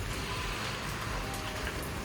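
Steady rain falls in the mountains, a dense, even hiss that runs unbroken through the whole stretch at moderate volume, with no voices.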